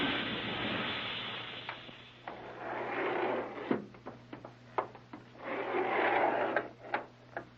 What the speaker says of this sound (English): Sounds like another elevator coming.